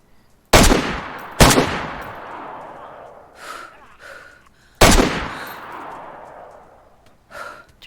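Gunfire from a weapon in the video game DayZ: three loud, sharp shots with long decaying tails, two close together and one later, followed by quieter breaths or grunts.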